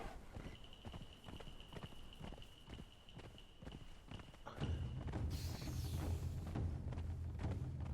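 A horse galloping in the video game Conan Exiles, its rhythmic hoof clip-clop pounding steadily and close, with a high sustained tone at first and a louder low rumble joining partway through.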